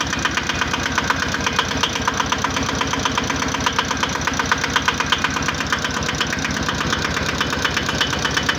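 An IFA 1VD diesel engine runs after starting in freezing weather, around 0 °C, its piston fitted with two rings in one groove, giving a loud, steady, rapid knocking idle throughout.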